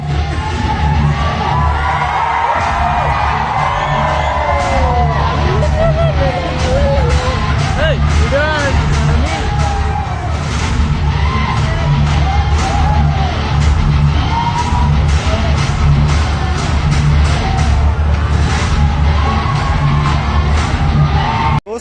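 A dense, loud crowd packs a cinema ticket counter, with continuous chatter, shouts and whoops blending into a steady roar and a voice talking over the noise.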